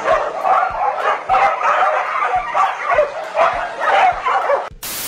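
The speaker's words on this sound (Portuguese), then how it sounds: "E os cachorros já latiram." A dog barks repeatedly in a steady rhythm, about ten sharp barks close by, with a brief loud burst at the very end.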